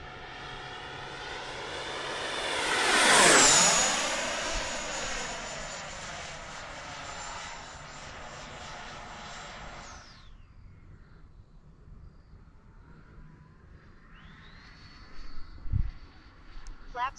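An FMS F-86 model jet makes a full-throttle speed pass, a high electric ducted-fan whine that swells loudly as it flies close by and then fades with a falling pitch. Afterwards the whine drops off, returns softly, and a few faint thumps follow.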